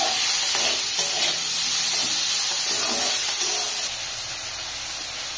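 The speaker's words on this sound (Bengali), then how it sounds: "তো এই যে দেখো চিংড়ি মাছটা বসিয়ে দিলাম" Prawns are set into a hot pan in a village kitchen in the Sundarbans, giving a steady, close hissing sizzle that spits and crackles for several seconds with no talking.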